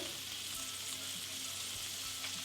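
Chicken liver sizzles softly in a pan with cumin powder, pepper powder and coriander leaf paste, a short, faint, even frying hiss with no one speaking.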